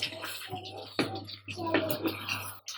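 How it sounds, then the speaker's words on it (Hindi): Water is poured into a pan of chicken korma masala to make gravy, giving a short, soft splashing and sizzling burst in a few uneven pulses over a low steady hum. "अब मैं इसमें ग्रेवी के लिए पानी डाल देती हूँ।"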